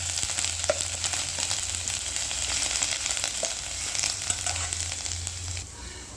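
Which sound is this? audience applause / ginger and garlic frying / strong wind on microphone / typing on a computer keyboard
ginger and garlic frying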